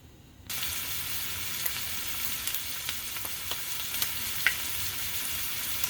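Seasoned meat sauce sizzles loudly in a pan after a quiet start, a dense steady frying hiss punctuated by sharp clicks and taps as a utensil breaks up the meat.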